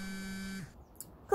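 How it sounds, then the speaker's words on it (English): A mobile phone buzzes with a steady electronic tone for about half a second, then cuts off, followed by faint room noise and a brief sharp chirp at the end. "I was gonna turn your phone off, Tony."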